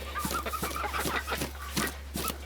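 Backyard chickens with a rooster among them cluck busily at close range in a steady, overlapping chatter while they peck at meat scraps. A low constant hum runs underneath.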